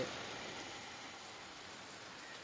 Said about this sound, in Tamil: பாருங்கள் மழை பெய்யுது